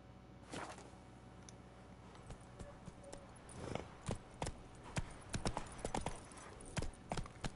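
Roach the horse galloping in The Witcher 3, a steady run of hoof clip-clops at moderate distance with louder beats toward the end, no talking over it.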